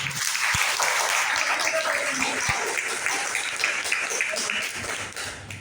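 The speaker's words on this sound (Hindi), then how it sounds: "जोरदार ताली होनी चाहिए।" A training-session audience breaks into loud, sustained applause, a dense wash of clapping that holds steady for several seconds and tapers slightly at the end, with no talk over it.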